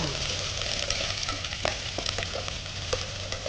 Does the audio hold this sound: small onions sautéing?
yes